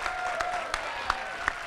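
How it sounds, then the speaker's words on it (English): Brief applause from a fan convention panel audience, a dense clapping wash with a few sharper individual claps standing out near the front. "Let's give a big round of applause for Hey Ocean here."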